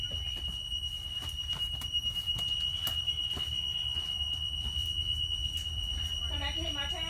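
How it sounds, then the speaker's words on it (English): The rear emergency door buzzer on a school bus keeps up a continuous, piercing electronic tone over a low idling rumble and scattered clatter, and a person talks briefly toward the end. "Buzzer's working."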